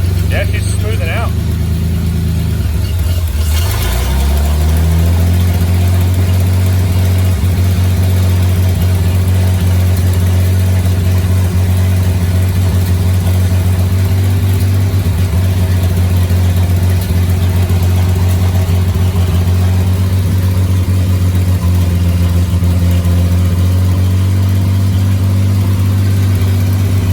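A 1941 Plymouth barn-find engine runs at a steady, loud idle after a brief rev near the start, its low drone settling and smoothing out while people talk over it.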